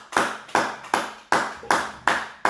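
A church congregation claps together in a steady rhythm, about seven sharp, loud hand claps spaced evenly apart, with no voices over them.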